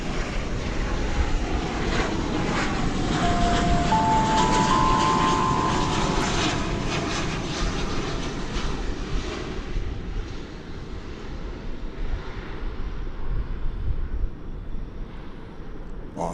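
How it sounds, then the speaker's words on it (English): An American Airlines Boeing 737-800 arriving at DFW Airport rumbles steadily for a long stretch, its broadband jet roar loud and sustained, with a faint whine and a slow fade toward the end. "Austin, the capital of Texas, and the 737-800 American Flight 2563"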